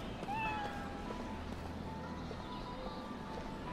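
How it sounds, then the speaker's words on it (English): A cat gives one clear, rising meow in the video game Lost Odyssey, heard near and distinct over a steady low ambient hum. "I'm talking to a cat."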